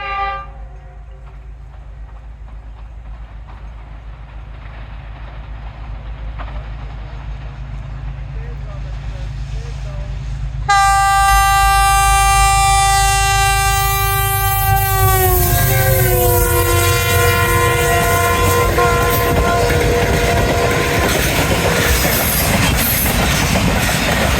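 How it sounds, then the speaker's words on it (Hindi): Tezgam express led by a GU20 diesel locomotive runs through Kaluwal railway station, approaching with a rising rumble, then a loud blaring horn and the roaring, clattering pass of the train close by. "9:50 और 8 डाउन तेज़गाम कालूवाल रेलवे स्टेशन से थ्रू पास करने लगी है।"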